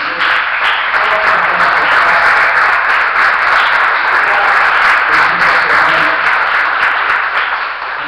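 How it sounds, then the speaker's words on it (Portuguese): A church congregation applauds in a loud, sustained burst of dense clapping that fills the room, holding steady for several seconds before tapering slightly at the end. "Vamos aplaudir o Senhor nessa noite."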